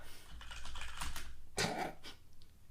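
Typing on a computer keyboard during a coding session, a fast run of soft close keystrokes with a louder flurry partway through, no voices over it.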